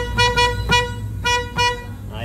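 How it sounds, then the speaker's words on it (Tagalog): A Toyota Hiace van's horn honks in a series of short, loud beeps with uneven spacing, sounding up close in a workshop setting. "Ating busina."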